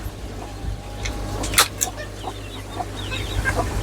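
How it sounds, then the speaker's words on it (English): Baby silkie chicks cheep and peep in soft, scattered bursts close by, with low background hum and light rustling. "it wouldn't be an update if I didn't show you the baby chicks"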